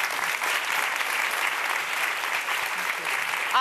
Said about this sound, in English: Would you please give a massive round of applause to this amazing woman?